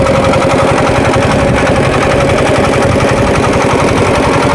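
A passenger motor boat's engine chugs loudly and close by, a steady rumbling drone with a rapid, even pulsing rhythm and no voices over it.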